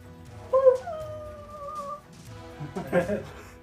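A voice imitates dire wolves during a tabletop wargame, giving a drawn-out howling yelp followed by a short burst of rough, bark-like vocal sounds, close and fairly loud.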